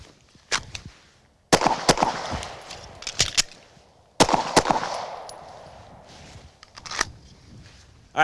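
Pistol gunshots fired in a concealed-carry draw-from-concealment drill, several loud sharp reports in irregular groups with ringing tails and pauses between strings.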